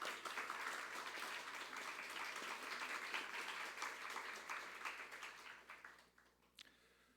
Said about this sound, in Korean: 우리 격려의 박수 한번 해드리겠습니다